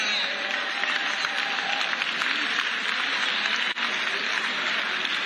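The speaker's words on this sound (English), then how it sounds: "Y'all see the claps are getting lower and lower." Audience applause at a political talk gathering, a steady wash of many hands clapping at moderate volume throughout, with a brief dip near the end.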